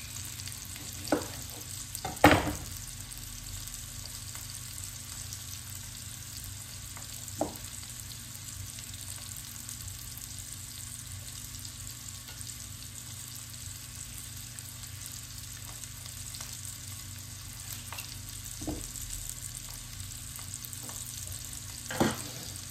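Red onion and cabbage sizzle steadily while stir-fried in a pan for an egg roll in a bowl, a constant low frying hiss with a few sharp clinks of utensil against pan, no talking.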